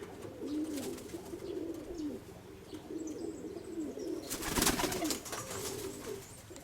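Pied pigeons cooing close by in a loft, a steady series of soft, rolling low coos repeating throughout, with a brief burst of flapping or rustling near the end.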